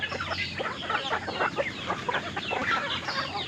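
A Brahma chicken clucks in a busy run of short, repeated calls, close and fairly loud, with other fowl adding to the chatter.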